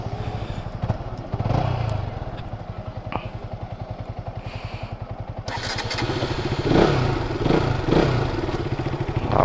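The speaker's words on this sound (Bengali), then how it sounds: "আজকে আমি এখন চালাবো RC200, এটা BS4 মডেল।" A BS4-model RC200 motorcycle engine runs steadily with a fast, even exhaust pulse, then swells louder as it is revved toward the end, heard up close without talk.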